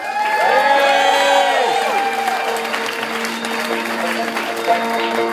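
A wedding crowd claps and cheers loudly for the couple's first dance, with whoops and high voices rising over steady applause that carries on throughout.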